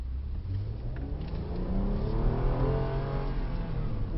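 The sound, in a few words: 2012 Hyundai Veracruz accelerating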